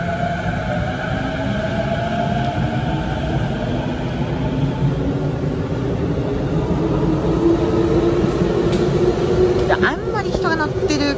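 A Saikyo Line rapid train runs through a station without stopping, giving a steady, loud rumble of wheels and motors that builds slightly toward the end, with rising tones and a few squeaks near the close.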